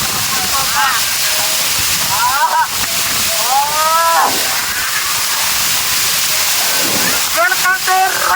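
Durgapadu waterfall between Andhra and Odisha pours down in a loud, constant roar of crashing water and gusting wind-driven spray, heard close up, with brief voice-like tones rising above the rush now and then.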